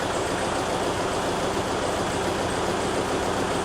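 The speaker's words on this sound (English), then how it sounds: "So once I start the test running, I'll hear the cylinder being cut" Commercial vehicle diesel engine running during a cylinder cut diagnostic test, a loud steady rumbling drone with broad noise and an even, unbroken drive throughout.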